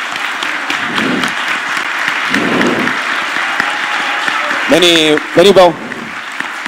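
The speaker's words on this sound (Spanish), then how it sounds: "para quienes le pido un muy fuerte aplauso" An event audience claps for an Olympic judo gold medalist being introduced, the applause rising and swelling in waves while a presenter speaks over it, with short bursts of nearby talk near the end.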